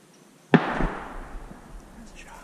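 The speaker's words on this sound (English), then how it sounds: "That's a shot." A single gunshot from shotgun deer hunting in Iowa during shotgun season cracks once, sharp but distant, and rolls off in a fading outdoor echo over quiet woods ambience.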